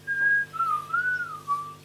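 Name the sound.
Whistling at the end of a song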